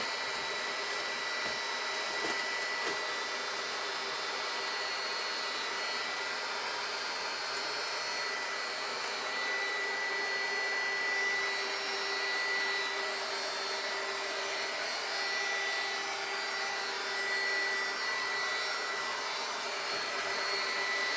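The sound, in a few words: heating shrink wrap on an Easter basket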